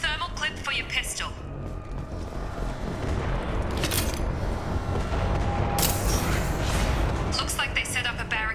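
Canisters blowing up during a firefight in the video game Mass Effect 2, a dense run of booms and gunfire that carries on throughout, with bursts of louder blasts standing out in the mix.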